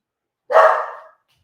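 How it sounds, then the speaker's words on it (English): A single loud bark comes from a pet dog passing close by on the way outside during a crafting livestream. The bark trails off quickly into silence. "My dog is about to go outside and she's just going to bark on her way by."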